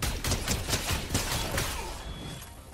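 Rapid blaster gunfire in the video game Fortnite, a quick burst of repeated sharp shots in the first two seconds, then fading into steady game background noise.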